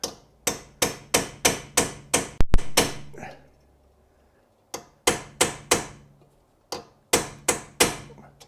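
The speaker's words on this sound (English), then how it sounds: "little tiny chisel, make a groove on the outside and then use that to turn it" A small chisel is hammered against a seized bolt on a Jaguar brake, producing sharp metallic strikes in quick, even bursts of five to eight blows, separated by short pauses, loud and close with no talk.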